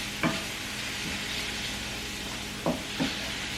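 Seasoned peppers frying in a pan for a Philly cheesesteak, a steady close sizzle broken by a few distinct spatula scrapes and knocks as they are stirred, no talk.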